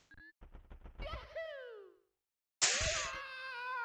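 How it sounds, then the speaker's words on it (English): A bonk sound effect from a video game, triggered by pausing one frame away from a wall, comes as a short bright tonal hit with ringing harmonics, following a few quick tonal blips and a gliding chirp, alone and close. "If you hear a bonk sound like this, that means that you're one frame away from the wall"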